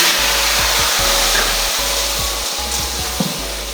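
Sugar syrup poured into fried semolina and egg halwa cooked in ghee sets off a loud, continuous hissing sizzle, with low bubbling thumps running underneath and no voices.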